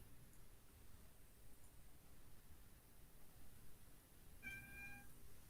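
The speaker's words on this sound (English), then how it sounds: "He's just waking up, so he keeps doing the meow yawns." A just-woken cat lets out a short, faint meow blended into a yawn near the end, after a stretch of quiet room hiss and soft rustling.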